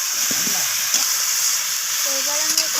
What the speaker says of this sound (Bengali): এবার আমি এখানে দিয়ে দিলাম ভেজে রাখা ডাঁটা উচ্ছে। আবারও সমস্ত কিছু এইভাবে কষিয়ে নিচ্ছি আমি।